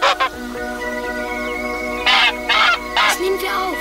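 Geese cackling and honking in several loud, close bursts over a steady background tone, with short harsh calls clustered in the second half.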